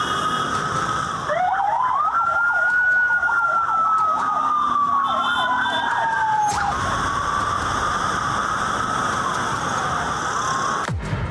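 An ambulance siren wails with a rising and falling yelp, loud and close, as a white prison-service ambulance departs under heavy security, with traffic noise around it and no talk.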